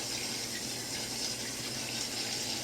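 Cold water runs steadily from a kitchen tap into a sink, a continuous even hiss and splash at close range with no breaks.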